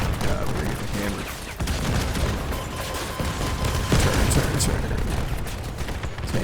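Cannon fire and other weapon blasts crash repeatedly in the Crossout vehicle combat game, loud booms and rattling impacts in quick succession over a busy battle din.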